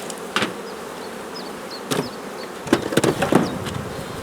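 Bees buzz in short, scattered bursts close to the microphone while settling on hive frames, broken by a few sharp knocks and clicks.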